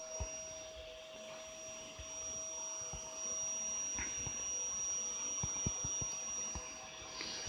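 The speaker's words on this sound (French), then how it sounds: "Il y en a un qui va baisser l'aspirateur, tant pis." A vacuum cleaner drones steadily in the background of a room, a constant moderate whine with a faint hum and occasional small clicks, no speech over it.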